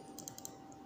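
Quick light clicks from the buttons of a Live Tech Vulcan RGB gaming mouse, a few crisp taps in a row, close and faint, with no talking.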